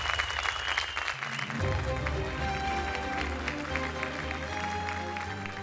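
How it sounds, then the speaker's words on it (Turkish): A studio audience applauds game show contestants onto a Turkish kitchen-themed quiz stage, dense clapping running the whole time over a steady bed of music. "O zaman alkışlarla iki yarışmacımı da buraya çağırıyorum"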